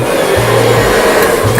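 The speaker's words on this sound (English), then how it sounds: "We got our good old freestyle blow dryer." A freestyle handheld blow dryer runs steadily while styling a pompadour haircut, giving a continuous close whooshing roar with low motor hum, its pitch dipping briefly as the airflow shifts.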